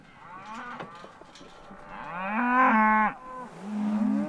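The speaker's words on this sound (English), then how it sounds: "These are black Angus, mostly" Black Angus cattle on a western Colorado ranch moo loudly and close by, one long drawn-out low call swelling then breaking off, followed by another rising moo, with no talk over them.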